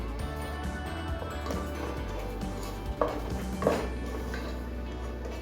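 Pumpkin halwa with cream and sugar is stirred in a pan, a steady low hiss and hum broken by a couple of distinct metallic clanks of the spoon against the pan.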